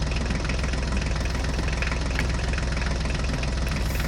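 A crane truck's engine runs steadily throughout, a loud, close, low rumbling idle with a knocking pulse and vibration and no voices over it.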